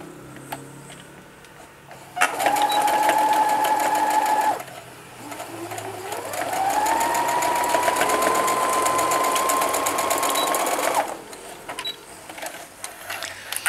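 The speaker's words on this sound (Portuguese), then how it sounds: "vou começar a costurar, não esquecendo de fazer o retrocesso no começo e o retrocesso no final" A sewing machine stitches fabric scraps for a small patchwork bag in two close, steady whirring runs: a short burst, a brief pause, then a longer run that rises in pitch before stopping.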